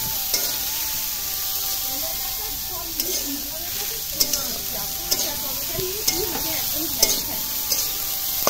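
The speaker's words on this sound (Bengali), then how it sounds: "এক এক করে সব জিনিস আমি ভেজে নেব।" Egg chowmein ingredients fry in a blackened wok, giving a loud, constant hiss with regular clanks and scrapes from stirring about once a second. A faint voice may sit under the sizzle.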